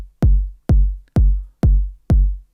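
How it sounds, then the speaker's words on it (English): Default Ableton kick drum sample, unprocessed, strikes five times at an even pace, each a loud, deep booming thump with a quick attack and a short decaying tail, alone with nothing else playing. "By default the kick sound like this."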